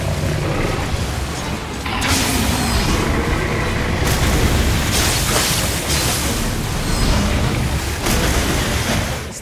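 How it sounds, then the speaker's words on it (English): Bombs thrown in the Nioh action game go off in a series of heavy booming blasts with rumbling tails, loud and repeated over several seconds amid combat clatter. "Let's throw some bombs at him."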